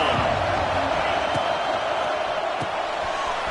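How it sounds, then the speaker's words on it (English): Stadium crowd in the NCAA 26 football video game, Indiana versus Texas A&M, holding a steady, loud roar of cheering throughout, with a few faint thuds underneath and commentary talk over it. "This crowd ready to make its presence known."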